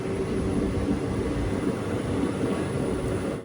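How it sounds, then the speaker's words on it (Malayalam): Onboard the Malabar Express sleeper train between Thiruvananthapuram and Mangaluru, a loud, steady rumble and rattle of the carriage runs without a break, then cuts off sharply. "ട്രെയിൻ ഇപ്പോൾ കോട്ടിക്കുളത്തെത്തിയേ."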